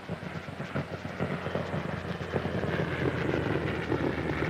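A Spitfire flies past at an air show, its piston engine giving a steady loud drone with rumbling low end that swells slightly as it passes, with no talk over it.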